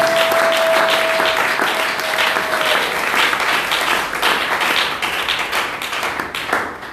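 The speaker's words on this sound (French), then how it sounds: "Acclamons Jésus." Church congregation applauding in a steady wash of clapping that swells and then gradually thins out, fairly loud, with a faint voice at the start.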